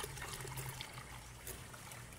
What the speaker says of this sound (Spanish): Agregamos agüita para que llevemos a un nivel que me permita